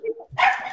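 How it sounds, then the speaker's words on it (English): Dogs giving one sharp, close bark after a short whimpering yip, quick and loud. "Oh my God, it's crazy dogs."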